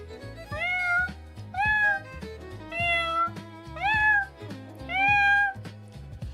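Five drawn-out meows come in an even rhythm, loud and close, a person's voice imitating a cat, set against soft background game music.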